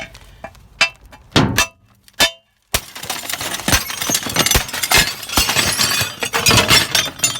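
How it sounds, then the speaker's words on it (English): Scrap glass from a dumpster haul smashed with big pliers: several heavy thunks and knocks, then a loud, sustained crunching and crackling as the glass breaks apart up close. "got the glass over here, and just smack that"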